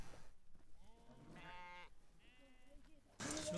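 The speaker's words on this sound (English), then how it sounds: "A sheep is carefully chosen and carried out for slaughter." A sheep picked from a mountain shepherds' camp for slaughter bleats twice, fairly near and moderately loud, with short pauses and quiet background between the calls and a sudden burst of noise at the end.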